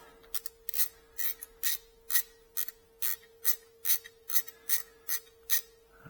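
A hand ratchet works loose the factory exhaust header bolts on a BMW R NineT motorcycle: a quiet, steady series of crisp clicks in an uneven rhythm over a faint constant hum.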